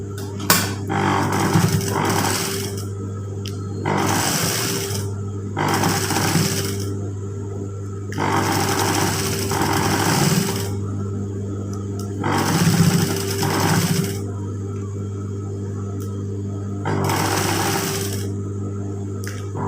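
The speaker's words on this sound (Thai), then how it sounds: "เพราะว่าเดี๋ยวเราเย็บสองฝั่งก่อนสองข้างก่อนอ่ะ" Sewing machine stitching a seam along an inner leg, running in repeated bursts of fast steady motor whirring with short pauses between runs, close and loud over a constant low hum.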